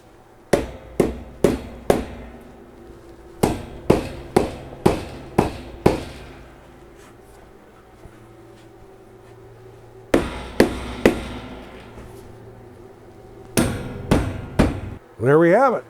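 A screwdriver sharply taps a metal shelf down tight on a kitchen utility cart, giving several quick series of loud, close, ringing knocks separated by pauses, with a brief scraping sound at the end.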